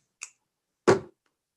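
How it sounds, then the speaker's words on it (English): One light knee pat and then a single crisp clap or snap, both close and isolated in silence, part of a rhythmic hand-percussion pattern at a Shabbat evening service. "you're gonna hit your knees, clap, and then snap"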